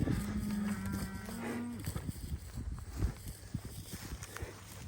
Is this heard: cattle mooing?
yes